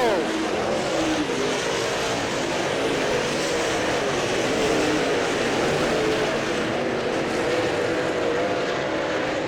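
A race car powers down the back straight during a 50-lap feature, its engine a sustained loud roar blending with other cars, with an announcer speaking over the noise.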